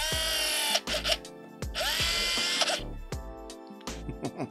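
Action Man analog film camera from 1998 winding and clicking its mechanism, a run of sharp whirring and ratcheting bursts with clicks between them, close and fairly loud with no talk.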